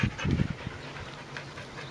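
A chatty pet dog vocalizing with grumbling sounds, then panting in quick, rhythmic breaths, close and fairly loud.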